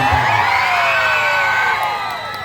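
A large crowd at a graduation event shouts and cheers loudly and close, a continuous roar of whoops and yells that tapers off slightly at the end.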